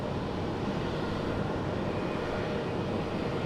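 An airliner takes off from runway 36 Center at Charlotte Douglas International on a windy day, its jet engines a steady, broad roar that holds constant throughout, with no voices.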